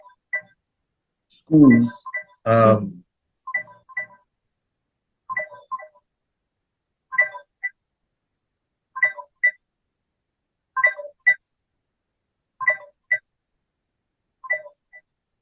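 A phone gives repeated short electronic beep bursts at a steady interval of roughly two seconds, fairly quiet and clean, after a brief spoken word near the start.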